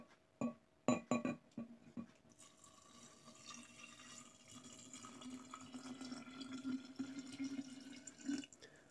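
Homemade kvass liquid is poured into a glass jar, opening with a few clinks and splashes before a soft, steady trickle of liquid that runs on quietly for several seconds.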